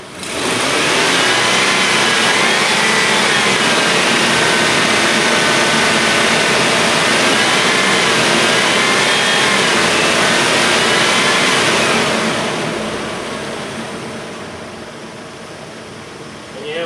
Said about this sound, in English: we'll rev it up